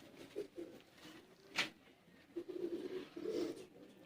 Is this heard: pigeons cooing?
yes